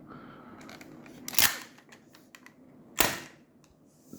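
Marushin M1887 gas airsoft shotgun firing weakly on old, low-power gas, two sharp close reports about a second and a half apart, with faint handling clicks between them.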